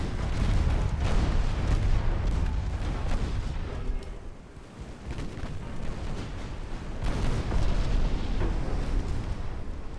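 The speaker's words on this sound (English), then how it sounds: "Torpedoes make contact and sunk." Heavy rumbling explosions from torpedoes striking and sinking a ship in the naval video game Leviathan, a sustained deep roar that swells, dips briefly in the middle, then surges again, loud and without talk.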